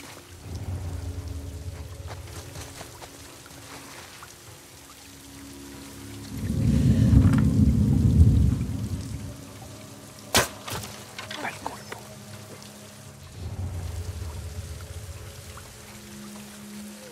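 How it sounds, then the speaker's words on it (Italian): A storm in The Last of Us Part 2 brings steady rain while a boat is steered, and low thunder rumbles swell in two or three broad waves, broken by a few sharp cracks. "Non è facile guidare la barca con questa tempesta."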